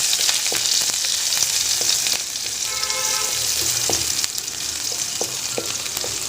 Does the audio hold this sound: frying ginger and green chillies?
yes